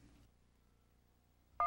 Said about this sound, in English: Your phone will attempt to complete the connection by automatically redialing the number.